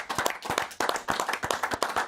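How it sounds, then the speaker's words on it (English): A round of applause from a club audience on a football legends night, with clearly separate hand claps in a quick uneven rhythm, close and fairly loud, sustained throughout. "So I think a round of applause for Milts"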